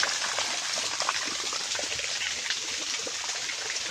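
Water gushes up from a shrimp-shaped fountain in a park, a steady close splashing rush with a faint trickling texture throughout, no voices.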